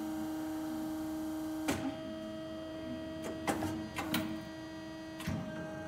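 The frame of an Everising S 6235HAA bandsaw moves up with a steady mechanical hum, broken by several sharp clunks and knocks, without talk.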